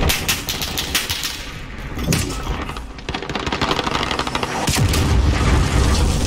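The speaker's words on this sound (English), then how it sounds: "Enemy cruise missile incoming." A cruise missile explodes in Call of Duty: Modern Warfare with loud, heavy booms and thuds, the first bursts followed by a bigger, longer rumbling blast near the end, all close and dominant.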